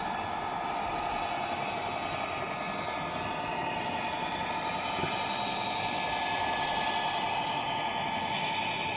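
A Bachmann model train locomotive hauls a heavy load up a 2% gradient on a layout, giving a steady, continuous mechanical whir with thin high squealing tones that hold evenly throughout.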